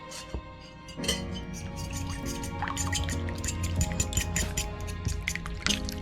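Oil poured close up into a hot cooking pan while making a crappie and pumpkin alfredo: a steady liquid trickle and drip with a few light clinks, running for several seconds with no talking.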